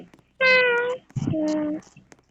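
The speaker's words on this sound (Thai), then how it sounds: "แมว" A cat in the Roblox game Brookhaven gives two drawn-out, clear meows in a row, loud and close, with no talk.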